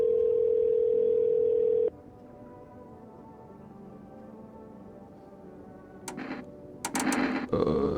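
A telephone dial tone in the video game No, I'm not a human sounds as a steady, loud continuous tone for about two seconds, then cuts off into quiet, followed by a few short clattering bursts.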